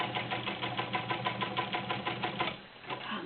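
A vintage Imperial all-metal heavy-duty domestic sewing machine stitches through three layers of garment leather, a fast, even mechanical chatter of needle strokes close up that slows and fades near the end.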